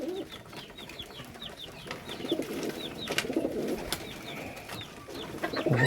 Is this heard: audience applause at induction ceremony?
no